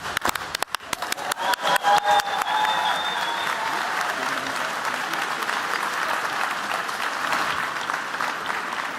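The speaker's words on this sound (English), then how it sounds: "If you're special and you know it, clap your hands." Audience clapping at the Ig Nobel awards ceremony, starting as separate sharp claps that quickly swell into sustained, dense applause from a large crowd, with a brief sung or held tone early on.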